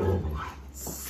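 A guide dog, a male, gives a short whiny bark-like vocalization when told to speak, close and fairly quiet, over low room noise with no talking.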